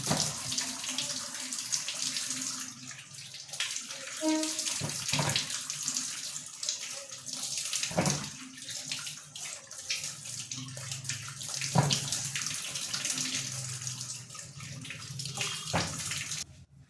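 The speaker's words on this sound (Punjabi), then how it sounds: "ਆਪਾਂ ਇਹਨੂੰ ਧੋਣ ਲੱਗੇ ਆ ਜੀ ਗਾਜਰਾਂ ਨੂੰ ਸਵਾਰ ਕੇ ਮਲ ਮਲ ਕੇ ਧੋ ਲੈਣੇ ਆ" Carrots rubbed clean under a running kitchen tap, a continuous splashing stream of water with occasional louder gushes and handling noises, no voices.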